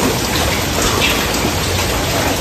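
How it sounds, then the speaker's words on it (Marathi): Rain falls steadily and heavily, a loud, continuous, even wash of drops with no pauses and no talking. "पाऊस आहे"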